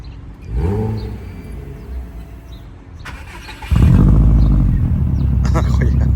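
A Porsche engine cranks and catches, then revs hard and settles into a loud, steady rumble close by, with voices talking over the quieter moments before it fires.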